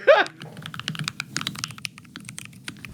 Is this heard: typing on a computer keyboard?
yes